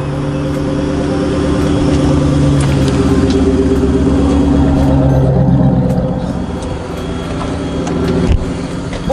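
A loud, deep muscle car engine rumbles steadily for several seconds, its pitch shifting as the car moves nearby, then fades slightly before a brief rev near the end.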